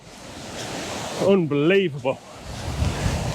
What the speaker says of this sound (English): The amount of water it is incredible